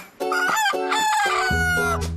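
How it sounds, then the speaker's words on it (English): A rooster crows close by on a croft, a loud harmonic cock-a-doodle-doo with a few strained breaks, ending in a lower sustained note. "a choir of hens and cockerels"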